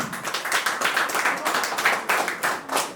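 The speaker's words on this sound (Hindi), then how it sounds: "मैं बुलाना चाहूंगा जोरदार तालियों के साथ मिस्टर अमित चौधरी जी" Enthusiastic applause rises from the audience at a product pre-launch event as a guest is called up, with individual hand claps standing out in a quick, uneven patter throughout.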